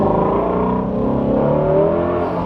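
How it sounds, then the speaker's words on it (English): A supercar accelerates gently, its engine rising in a smooth, continuous drone of climbing pitch that stays steady and loud for the whole stretch, with no voices over it. "This is going to be a mild acceleration."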